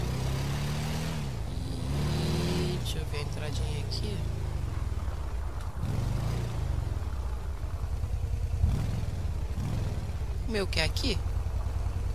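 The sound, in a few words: motorcycle engine in video game GTA V Online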